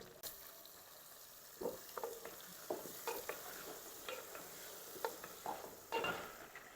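Potato pieces and browned onions are stirred in a hot pan, a soft, low sizzle broken by irregular scraping knocks from the spoon, fairly faint and close with no talking.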